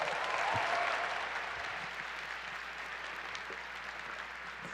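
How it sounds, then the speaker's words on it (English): A room full of people at a university event claps steadily for the speakers, a dense wash of applause that starts strongest and gradually tapers a little. "let's give it up one more round of applause for all of our speakers today"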